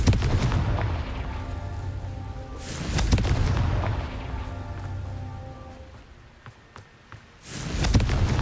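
Explosive Confringo spell blasts in the Hogwarts Legacy video game: a loud boom at the start, another around three seconds, and a final burst near the end, with rumbling decay and game music between.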